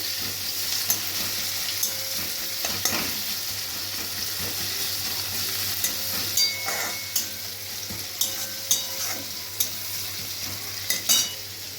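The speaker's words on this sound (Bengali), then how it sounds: "পেঁয়াজটা ভাজা হয়ে যাক একটু" Chopped onions fry steadily in oil for green egg curry, a continuous broadband sizzle with occasional scrapes and clinks of a spatula stirring through the pan, no voices.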